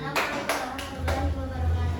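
A class claps for a student group after their presentation, a few sharp clap bursts over a low murmur of voices and room noise.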